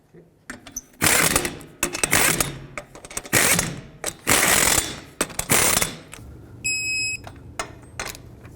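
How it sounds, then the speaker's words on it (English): Wheel lug nuts on a 2002-06 Toyota Camry being tightened with a ratchet or torque tool, loud bursts of ratcheting in several spells at close range, followed by a quiet stretch with a faint electronic beep. "Start on all 5 of your lug nuts and torque them to 76 foot-pounds."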